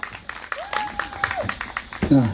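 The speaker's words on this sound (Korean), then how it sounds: "다시 한번 더 박수 부탁드리겠습니다" Crowd applause at the Seongju candlelight rally stage, a steady spatter of hand claps mixed with a voice that keeps talking over it.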